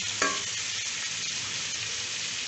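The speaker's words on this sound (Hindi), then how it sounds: "अदरक लहसुन और गोश्त को हम फ्राई करेंगे, थोड़ा सा इसका कलर चेंज करेंगे" Ginger, garlic and mutton frying in a pan for shalgam palak gosht, a steady close sizzle with a brief stir near the start, continuing evenly with no voices.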